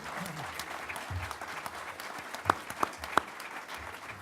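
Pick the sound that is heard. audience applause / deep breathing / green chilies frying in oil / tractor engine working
audience applause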